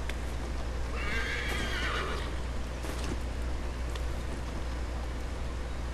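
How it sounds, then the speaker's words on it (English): A horse in Assassin's Creed 3 whinnies loudly with a drawn-out neigh around the first two seconds, then quieter hoof clip-clops follow over a steady low game ambience with no talking. "the horse is right here, which is annoying because you can never tell the horse to stop following you"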